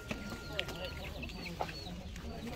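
Chickens at a poultry seller's place clucking in short, scattered calls, faint and mid-distance, amid a busy background hum and some nearby talk.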